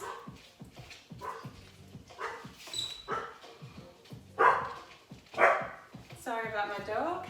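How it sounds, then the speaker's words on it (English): A dog barks several times in short sharp bursts near a yoga class, with some whimpering yips, while someone talks through the barking. "Sorry about my dog, he's an idiot."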